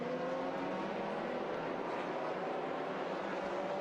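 GT race cars cross the finish line at the Bahrain circuit during a 2005 FIA GT Championship round, making a steady, dense engine roar that holds at an even level throughout with no gaps.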